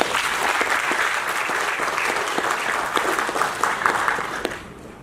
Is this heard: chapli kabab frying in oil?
no